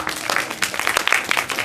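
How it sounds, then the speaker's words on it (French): An audience applauds at a charity improv comedy evening, with dense, steady clapping that stays loud and close throughout the short burst. "Je vais les applaudir."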